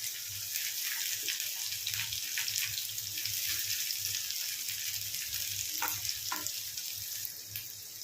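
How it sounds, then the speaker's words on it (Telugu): Chopped onions and green chillies fry in oil in a pan for a home egg curry, giving a steady, close sizzle with faint clinks from stirring. "ఉల్లిపాయలు, పచ్చిమిర్చి ముక్కలు అయితే మంచిగా వేయించుకోండి."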